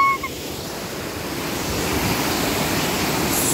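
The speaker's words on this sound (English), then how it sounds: "So this is the waterfall." A waterfall by a lake gives a steady, broad rushing roar, loud and continuous, growing slightly louder over a few seconds, with no talking.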